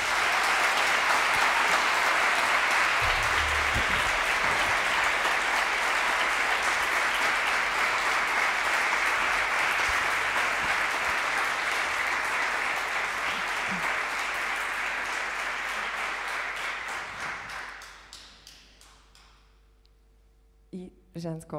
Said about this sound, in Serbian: Jedan veliki aplauz za Nemanju i Aleksandra, molim vas.